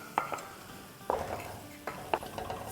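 Spiced samosa potato filling sautéed in a pan, with a few sharp scrapes and taps of a spoon against the pan over a faint background sizzle, quiet and close.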